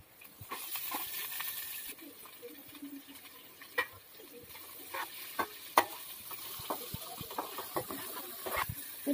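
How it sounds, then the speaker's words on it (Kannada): Carrot and onion hit a hot frying pan, giving a steady sizzle with scattered crackles and sharp pops throughout. "ಕ್ಯಾರೆಟ್ ಹಾಕ್ತೀನಿ. ಈಗ ಈರುಳ್ಳಿ ಹಾಕ್ತೀನಿ."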